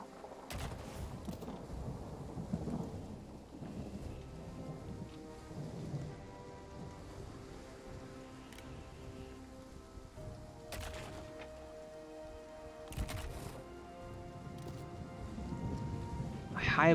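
Steady rain patters in a Rise of the Warlords battle while sharp thunder cracks and rumbles break through several times, with a voice speaking faintly underneath the continuous storm.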